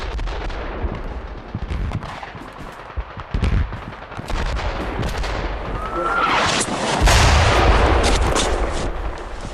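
Mortar fire during the Falklands War, a series of loud booming explosions and sharp blasts, with a big roaring detonation swelling late and rumbling on.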